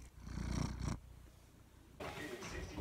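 A pet cat purring close up, a soft low rumbling throb in two stretches separated by a brief pause, quiet overall.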